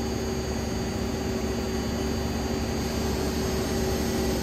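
A 1995 Mazak SQT15MS CNC lathe spindle running up toward 3000 RPM gives a smooth, steady high whine with a constant broadband rush. It holds even throughout, with no talk.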